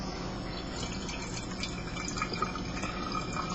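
Water thick with algae pours steadily through a paper towel filter, a continuous close trickling and splashing with no talk.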